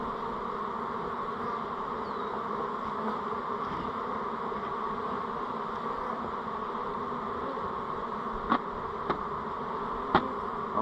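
A honeybee swarm in a double-deep hive hums around the frames, a steady dense buzz with no pauses, broken late by a few sharp faint clicks.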